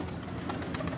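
Pigeons coo steadily at close range after being let out of their coop, a continuous soft murmuring chorus with no talk over it.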